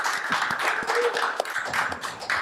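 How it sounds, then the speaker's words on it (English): Audience clapping for guests on a hip-hop interview show, steady scattered claps under a roomy, noisy background. "Clap it up."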